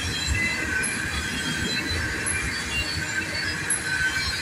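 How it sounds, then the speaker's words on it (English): Train wheels squeal continuously as the railcars roll and spin around a bend, a steady high-pitched metallic screech over a low rumble of the passing cars, with no talking. "this train is spinning"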